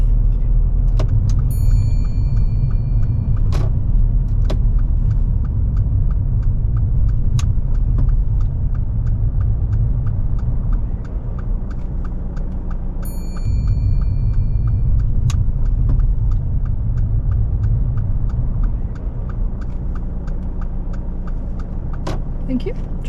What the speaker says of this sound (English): If you can pull over and park up on the left somewhere safe.